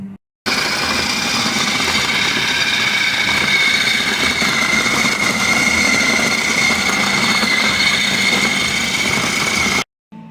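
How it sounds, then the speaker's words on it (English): A food processor grinds pork fat and meat for Polish smalec lard spread. It gives a steady loud motor whir and chopping roar for about nine seconds, then cuts off abruptly. "we're going to put it through the food processor to grind it up a little bit"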